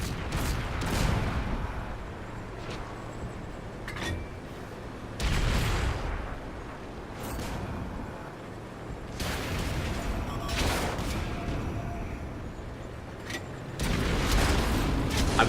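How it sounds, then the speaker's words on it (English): Mortar shells fire in World of Tanks, with the Gorynych KV-5 in play: heavy booming shots at intervals of a few seconds, each with a rumbling tail over a steady battlefield drone. "I'm using my mortar shells to fire over the hill and continuously set him on fire"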